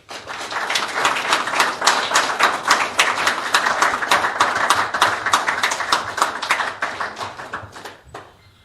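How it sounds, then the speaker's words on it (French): A crowd at a French-speaking political rally of the Mouvement pour l'Action (MPA) claps steadily and loudly for several seconds, dense overlapping hand claps ending abruptly near the close. "Je vous demande donc de leur faire, une fois de plus, un tonnerre d'applaudissements"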